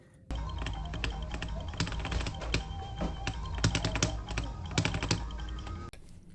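Steady, fast typing on a Glorious GMMK tenkeyless mechanical keyboard with Gateron Red switches, close and loud, a dense run of keystrokes with occasional heavier clacks, stopping abruptly near the end.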